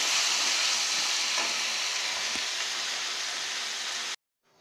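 Onions and tomatoes sauté in a pan for tomato rice, giving a steady, close, loud sizzling hiss that runs unbroken before cutting off abruptly near the end, with no talk.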